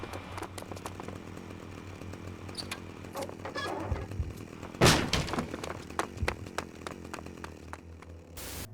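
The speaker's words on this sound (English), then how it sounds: "And now that Cash has the chainsaw, he can easily take out Starkweather's guards one by one" A chainsaw in the video game Manhunt buzzes steadily as a low drone under sharp crashes, breaking thuds and a loud splattering impact midway, with scattered clicks and hits around it.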